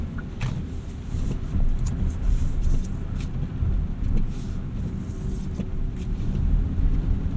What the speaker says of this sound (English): We'll do a little bit of low-speed driving here too.